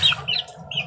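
A mother hen clucking near a brood of five-day-old chicks, with a few short, close clucks in a soft, broken rhythm over low background rumble.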